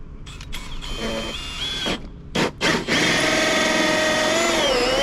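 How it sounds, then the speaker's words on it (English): A 2 3/4 inch hole saw driven by an M12 cordless drill cuts a hole while an electrical service is being upgraded. The motor whines in short bursts, then settles into a steady, loud grinding cut that continues to the end. "I'm going to make a 2 3/4 inch hole using a 2 3/4 inch hole saw."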